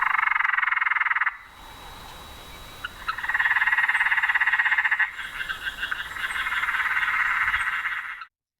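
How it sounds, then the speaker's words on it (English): Frogs call from a water-misted rainforest garden, loud, dense trilling bursts with a short lull between them, close and continuous with no talk. "the frogs in their water-misted rainforest garden kept calling"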